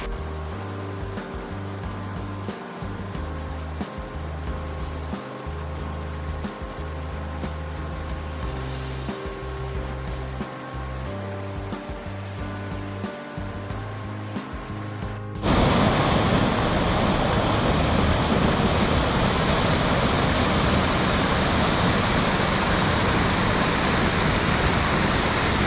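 Maniava Waterfall in the Carpathian Mountains of Ukraine roars loudly and steadily, the rushing water bursting in abruptly about halfway through after a quieter stretch of rhythmic droning sound.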